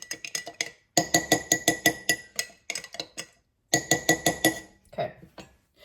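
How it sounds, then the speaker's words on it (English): A spoon clinks rhythmically against a glass jar while stirring sourdough starter, bright rapid taps in bursts with short pauses, close and clear with no talking. "I'm going to stir this, time it for 10 minutes"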